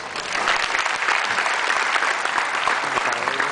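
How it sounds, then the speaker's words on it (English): Audience applause at a corporate speech event, a steady, dense wash of many hands clapping at close range that holds evenly for several seconds with no voices over it. "Please give them a round of applause."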